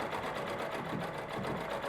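A Bebarfald Blue-Bird branded Minerva CB sewing machine runs steadily, a continuous fast whirring and rhythmic ticking of the mechanism heard close and even throughout, with no voices.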